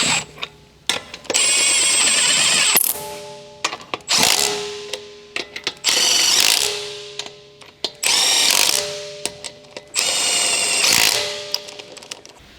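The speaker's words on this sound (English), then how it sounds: "Using the large 23mm short socket, large short extension bar, and large electric impact wrench," Electric impact wrench with a 23mm short socket and extension snugging the front wheel lug nuts on a 2011 Dodge Ram 1500 during brake disc replacement; four loud, close hammering bursts of a few seconds each, separated by short pauses with light clicks.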